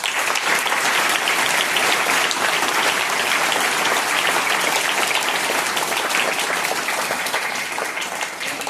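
Dense, sustained applause from a group honouring teachers at a school event, steady and full for several seconds before easing slightly at the end.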